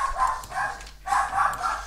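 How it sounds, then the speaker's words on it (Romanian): A dog barks in two quick clusters of short yapping calls, moderately loud and fairly close, with nothing else over them. "trebuie să potolesc câinele pentru că latră"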